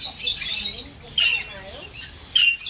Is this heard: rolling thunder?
no